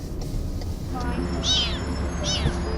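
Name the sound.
kitten meowing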